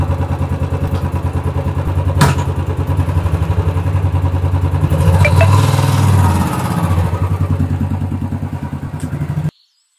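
A motorcycle engine close by runs with a rhythmic, clattery idle, briefly revving louder midway before the sound cuts off abruptly.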